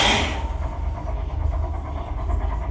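Ghost train dark ride at Thorpe Park, a rail-based attraction: a steady rumbling, rattling carriage noise with a low clatter, opening on a brief loud hiss and then rolling on evenly and close.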